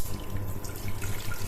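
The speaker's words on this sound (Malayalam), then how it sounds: "അതിൽ നമുക്ക് ആവശ്യത്തിന് വെള്ളം ഒഴിച്ചു കൊടുക്കാം." Water pours into a pressure cooker sitting on the stove, a short, close, gurgling stream with splashing throughout.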